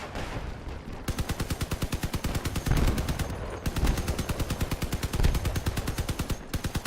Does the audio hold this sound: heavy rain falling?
no